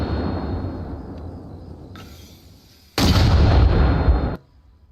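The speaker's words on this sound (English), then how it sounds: "Bonking those mortars" Mortar fire in Arma Reforger: a distant rumble of blasts gives way to a loud, close burst of booming fire lasting over a second, then quiet.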